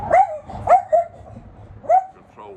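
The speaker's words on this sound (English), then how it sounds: "barking at another dog" A dog barks several times at another dog, close by, with short sharp yelps in an irregular rhythm and quiet pauses between them.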